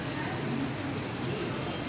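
A dense, steady hiss of heavy monsoon rain in Mumbai fills the whole clip, constant and close with no breaks.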